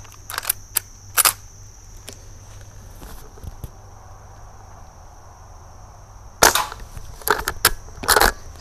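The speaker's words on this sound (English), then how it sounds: "But let's start doing some more shooting." An Umarex Cowboy air rifle fires at cans outdoors, several sharp snapping shots in two clusters separated by a quiet gap, over a steady background of chirping crickets.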